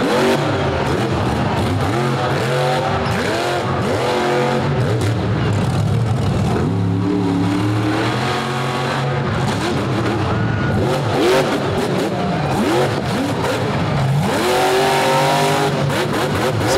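The Illuminator monster truck, driven by Corey Snyder, roars with loud, continuous engine revving on a freestyle track with bus stacks, pitch rising and falling through repeated acceleration bursts, with squeals and crowd noise behind.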